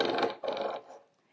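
A serrated knife drawn through a Kitchen IQ manual sharpener makes two rasping, grinding strokes of about 0.4 seconds each, close and fairly loud, with a short gap between them and a fading scrape at the end.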